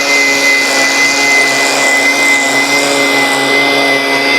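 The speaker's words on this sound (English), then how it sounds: "it's definitely a lot harder to edge with the trimmer" A string trimmer edging along a lawn border, its steady high-pitched motor whine running continuously and loudly close by with a constant tonal hum throughout.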